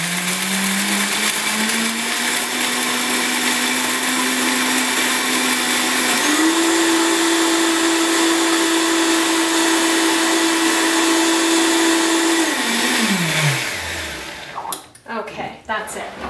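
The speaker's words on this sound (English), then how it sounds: "So we're going to blend this up" A Vitamix blender whirs loudly through a raw kale chip mixture, a steady close roar that rises in pitch partway through, then winds down and stops near the end with some handling clatter.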